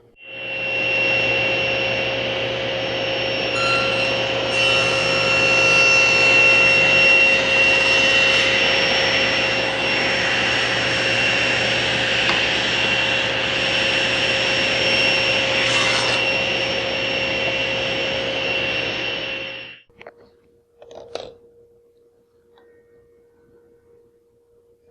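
SawStop table saw running steadily as it cuts a spline kerf through the corner of a wooden box on a jig, a loud sustained whine for about twenty seconds before spinning down to quiet clicks.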